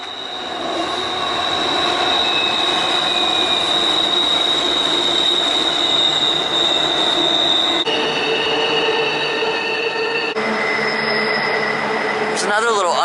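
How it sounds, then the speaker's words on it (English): A train passes nearby with steady loud rumble and high squealing wheels under a road underpass or bridge, continuous throughout, with some talk in the background. "I hear a train"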